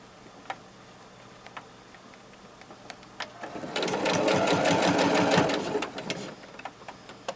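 A sewing machine stitches fabric for a face mask, starting with a few quiet clicks and taps before a steady, loud run of rapid stitching in the middle that slows and stops near the end.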